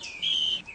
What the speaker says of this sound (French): il utilise un sifflet contre sa lèvre inférieure pour exécuter la mélodie